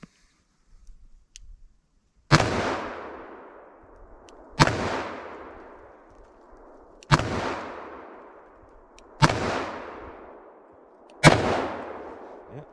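Five heavy revolver shots from a Smith & Wesson Model 69 .44 Magnum firing PMC 180-grain loads, each a sharp loud blast with a long ringing decay, spaced roughly two to three seconds apart outdoors.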